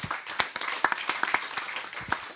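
Scattered claps from an audience applauding the panelists at a judicial artificial intelligence event, a thin, uneven patter of individual hand claps at moderate distance, with no one speaking.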